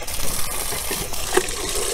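Water trickles and splashes into the soil of a potted Madagascar jasmine cutting, a soft close pour with a small clink partway through.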